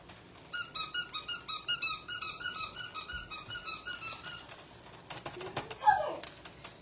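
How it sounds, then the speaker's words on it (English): A rubber duck squeaks over and over in a fast, bouncy rhythm, close and bright, followed by a few clatters and a short squeal. "Blue likes the sound of this rubber ducky."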